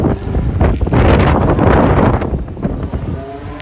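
Heavy wind buffeting a microphone outdoors at a drift practice track, loud low rumbling gusts that swell and fade continuously with no voices.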